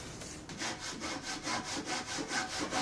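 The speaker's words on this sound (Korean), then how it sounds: "건물 외벽을 만들기 위해서는 직접 톱질을 하여 나무를 자르고" A hand saw cuts a wooden board for a miniature building's outer wall, steady back-and-forth strokes in an even rhythm, close and clear with no talking.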